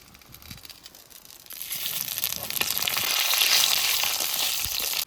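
Bay leaf, dried chili and panch phoron hit hot oil for a Bengali khichuri tempering, starting with faint stirring and rising after about a second and a half into loud, steady crackling sizzle that holds to the end.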